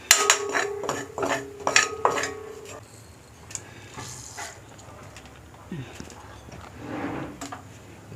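Metal ladle and pot clinks as fried coconut, shallots and curry leaves are spooned into a jackfruit erissery curry pot: a quick run of bright clanks, then quieter scattered taps and faint sizzle.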